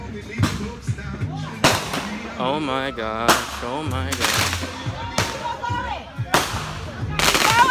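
Backyard Fourth of July fireworks burst in sharp cracks and pops, several loud bangs spaced through the clip along with whistling and crackle, while people exclaim excitedly over them.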